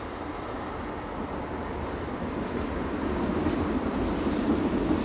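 Inside the Metropolitan passenger train, a German express coach, a steady rolling rumble and rail noise build slightly in loudness as it runs along the track, with no voices.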